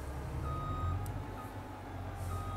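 A truck reversing in Farming Simulator 22 sends out a steady series of high electronic beeps over a low engine rumble, fairly close and clear.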